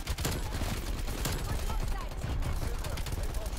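EM2 assault rifle firing during a Domination match in Call of Duty: Black Ops Cold War, loud and close, with rapid, sustained automatic bursts that rattle almost without a break for the whole stretch.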